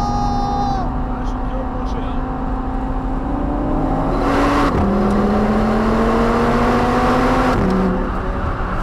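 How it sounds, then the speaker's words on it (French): Audi TT RS engine held under sustained hard acceleration near top speed, a steady droning whine rising in pitch with a gear change around the middle, loud and continuous from inside the car. "Donc je continue d'accélérer, 270, 275, 276, 77, 78, j'aimerais bien faire un 280"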